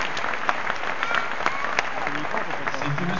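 Dense, steady applause from a crowd honoring volunteers leaving a basketball court on a championship opening night, loud and continuous throughout with a few sharper claps and crowd noise mixed in.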